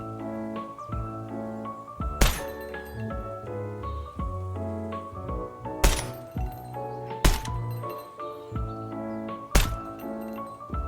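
Gunshots hit targets in the video game Gunsmith Simulator: a few sharp, separate cracks spaced seconds apart over a steady musical game background.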